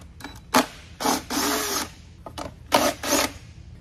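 A power tool backs out 10 mm bolts from the cowl of a Tohatsu 20 hp outboard motor on a pontoon boat, in several short, close whirring bursts with brief pauses between them.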